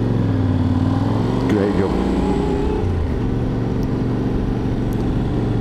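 A motorbike engine idles and pulls away steadily on a learner's first road ride, a continuous low drone with gear-change shifts, while a voice talks briefly over it.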